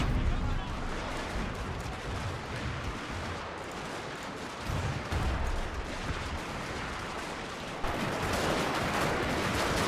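Sustained rapid gunfire from Gatling guns in the Total War: Fall of the Samurai strategy game, a dense, continuous battle roar with overlapping shots, a brief louder surge midway and a harsher burst near the end, with faint voices underneath.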